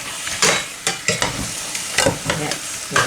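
Sauce sizzling steadily in a hot pan, with repeated scraping stirs cutting through the frying hiss at an uneven rhythm, close and fairly loud.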